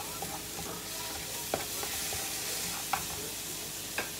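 Garlic frying in a pan while being stirred, a steady soft sizzle running throughout with a few light scraping clicks of the utensil, close and moderately quiet, with no talking.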